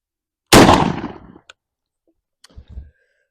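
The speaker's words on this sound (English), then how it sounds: "I'll throw it in the shotgun and see how it patterns down range at 40 yards." A single loud, close 12 gauge Winchester SX4 shotgun blast fires a bismuth-steel load outdoors, its sharp report decaying over about a second, followed by faint clicks and a brief low thump or two.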